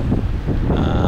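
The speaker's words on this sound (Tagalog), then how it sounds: "Medyo may hangin" Wind buffeting a microphone during a group motorcycle ride near a port, a loud, steady roar with no talk.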